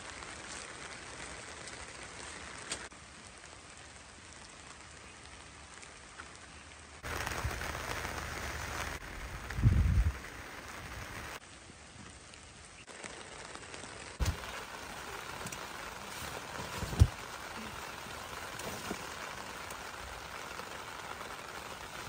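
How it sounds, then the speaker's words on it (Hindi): Gentle morning rain patters steadily on a surface at a forest campsite, with a few brief knocks and shifts in the background. "धीरे धीरे बारिश हो रही है।"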